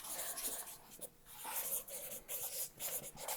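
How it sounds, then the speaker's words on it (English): A pen or pencil scratches on paper as an answer is written down, with quiet, close, rhythmic strokes and short pauses between bursts. "So I gotta write down my answer too"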